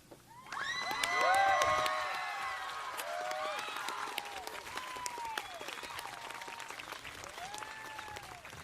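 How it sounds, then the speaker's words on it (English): A crowd at the Kea'au High School Class of 2026 commencement gives the valedictorians sustained applause, with whoops and shouted cheers rising above the dense clapping before it settles into a steady roar. "Let's have one more round of applause for our class of 2026 valedictorians."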